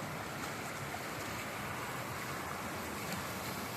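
A swollen village stream rushes past in strong flow, a steady broadband wash of water with no pauses, moderately loud and unbroken throughout.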